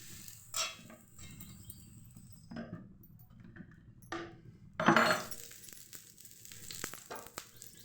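Ragi dosa batter hits a hot griddle with a quiet, patchy sizzle, broken by several soft clinks and scrapes of a ladle or spatula against the pan, one louder burst near the middle.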